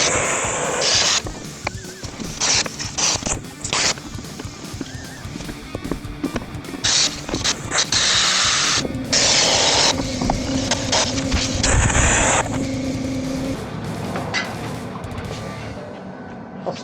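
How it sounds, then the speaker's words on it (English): A Sawzall reciprocating saw cuts along a body seam of a race car being lightened. Loud, harsh and continuous, the rasping churn surges and dips in uneven bursts. "I'll see how far I can get with this sawzall in this situation"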